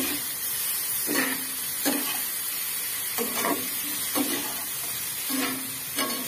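Maggi noodles fry in a pan after an egg, giving a steady loud sizzle broken by regular scraping stirs about once a second.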